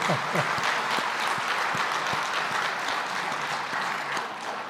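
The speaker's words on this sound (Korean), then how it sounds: "우리 박수로 축복합니다." A church congregation claps together during a Sunday afternoon service, a dense, even wash of applause with some low thumps at the start.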